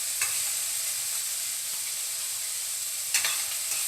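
Carrot, potato and beetroot stir-fry in a pan with a soft, continuous sizzle, broken by two sharp spatula scrapes or clinks near the start and near the end.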